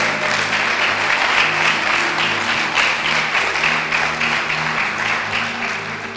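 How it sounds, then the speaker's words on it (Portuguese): A church congregation applauds during a sermon, steady full-room clapping sustained at moderate level throughout, with a faint hum underneath. "pode aplaudir Jesus."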